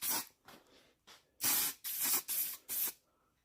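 A series of short, close spray-can bursts applying primer paint to the floor of a VW Jetta Mk2 with rusted floor panels, six or seven hissing pulses of varying length with brief pauses.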